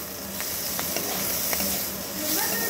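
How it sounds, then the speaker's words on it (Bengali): Hot oil carrying fried lentil dumplings (bori) is poured over mustard greens in a pan, giving a steady, close sizzle and hiss with a few soft stirring clicks, heard alone with no talking. "এবারে এই সর্ষে শাকটার ওপর দিয়ে বড়ি সমেত তেলটাকে দিয়ে দিলাম, দিয়ে ভালো করে নাড়াচাড়া করে এর সঙ্গে মিশিয়ে নেব।"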